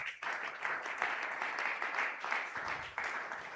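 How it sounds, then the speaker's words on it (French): A church congregation at a Sunday worship and thanksgiving service applauds, steady broad clapping that pulses in waves for several seconds, with no talk over it. "Est-ce qu'on peut acclamer très fort pour la gloire de Jésus?"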